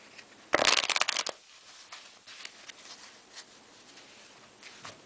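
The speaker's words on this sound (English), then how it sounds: "I do a riffle shuffle to convince the participant that all is fair" A quick, crisp riffle shuffle of playing cards, a brief burst of fluttering clicks, followed by faint soft handling of the deck.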